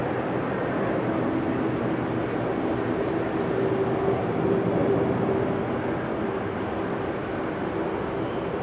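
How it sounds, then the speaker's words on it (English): An Air Canada Boeing 787-9 Dreamliner arriving at Amsterdam Schiphol Airport on a windy, showery day produces a continuous broad jet rumble with a faint steady whine, moderately loud and unbroken by voices. "Next up, Air Canada flight 900 arriving from Montreal"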